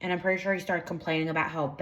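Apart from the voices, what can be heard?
None of the usual background noises is heard.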